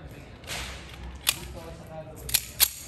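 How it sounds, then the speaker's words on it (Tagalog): Armscor/RIA 1911 GI Series .45 ACP pistol firing Teflon-coated reloads at steel plates: a sharp crack near the start, then two close, loud shots a fraction of a second apart, over steady outdoor background noise. "Firing!"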